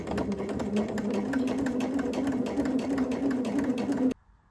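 Sewing machine topstitches jersey fabric for a pair of shorts at a lengthened stitch, giving a fast, steady rhythmic chatter of needle strokes that runs loud and close for about four seconds, then stops abruptly.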